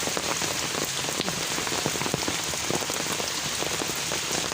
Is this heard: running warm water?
no